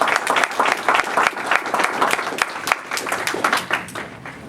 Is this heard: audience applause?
yes